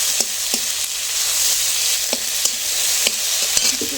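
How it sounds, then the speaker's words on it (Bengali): Ripe tamarind being stirred into a sizzling chutney in a pan, a steady bright frying hiss punctuated by regular soft scrapes and taps of the spoon, close and fairly loud. "একটু হালকা করে নেড়ে নেড়ে দিয়ে দেবো তেঁতুল, পাকা তেঁতুল।"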